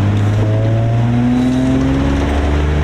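A Nissan Altima SE-R pulls hard in second gear, its engine note a steady, loud drone that climbs gradually in pitch throughout, heard close from inside the car with no talk.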